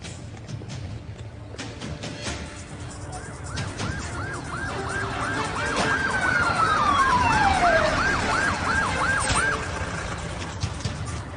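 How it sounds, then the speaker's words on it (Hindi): Ambulance sirens arriving at a hospital emergency entrance, a repeating wailing tone growing louder as the vehicles approach, with a second falling siren sweep crossing it, over rumbling traffic. "सब सुनो, तो एम्बुलेंसेस आ रही है"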